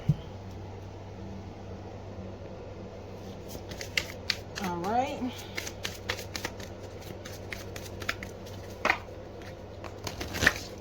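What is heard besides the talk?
shuffling tarot card decks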